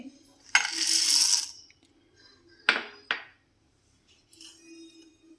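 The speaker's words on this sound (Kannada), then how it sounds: "ಒಂದು ಮಿಕ್ಸಿ ಜಾರ್ ತೊಗೊಂಡಿದ್ದೀನಿ. ಅದಕ್ಕೆ ಎಳ್ಳು ಹಾಕ್ತಾಯಿದ್ದೀನಿ, ಹುರಿದಿಟ್ಟಿರುವಂತಹ ಎಳ್ಳು." Roasted sesame seeds poured into a metal mixer jar in a home kitchen, a bright rattling pour of about a second, then two short clinking bursts and a faint scatter, all close up with no talk.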